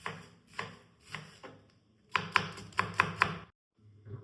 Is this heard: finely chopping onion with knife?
yes